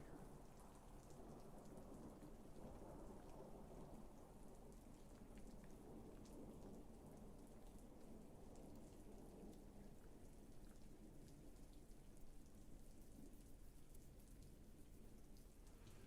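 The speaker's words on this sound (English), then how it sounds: "It's the rain outside." Rain falling outside in a steady, dense hiss, distant rumbling beneath, faint and continuous with no voices.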